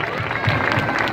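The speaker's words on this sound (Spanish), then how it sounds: "Vamos a darle un fuerte aplauso." Crowd applause at an outdoor Christmas celebration in Celaya, Mexico, a brief burst of dense clapping mixed with crowd noise and voices, loud and close.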